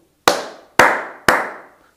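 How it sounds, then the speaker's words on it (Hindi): Three sharp hand claps ring out at an even pace, each a crisp loud snap that trails off in a short room echo, made to set off a plasma ball's sound-sensitive mode. "अभी हम ताली बजाएंगे"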